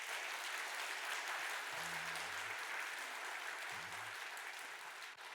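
A church congregation applauds during a Sunday service, a steady even patter of many hands, slightly distant, with a brief low voice murmuring under it.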